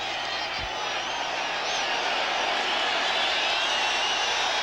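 Steady, dense roar of a football stadium crowd at a 1988 Monday Night Football game between the Dallas Cowboys and Arizona Cardinals, a continuous wash of distant voices and cheering with one brief low thump early on.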